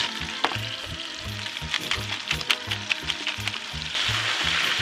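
Baby potatoes frying in very hot Manketti oil with salt and pepper, a loud, close, continuous sizzle and crackle with rhythmic stirring scrapes in the pan and no talk.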